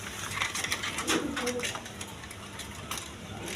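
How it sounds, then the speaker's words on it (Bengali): Pigeons cooing among caged birds offered for sale at a Bangladeshi pigeon market, soft repeated coos blended into a dense, steady wash of background noise. "একদম ফ্রেশ কবুতর দেখেন"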